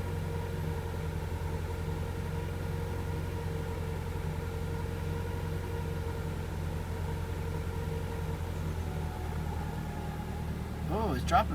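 A Honda Prelude with 113k miles, flooding rich and stalling when warm, idles with a steady, low, even engine drone that holds for about eleven seconds before a short rising rev near the end.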